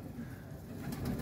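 Pigeons cooing softly near grain scattered for them to eat, a low, continuous murmur of calls that swells slightly toward the end, with no voices.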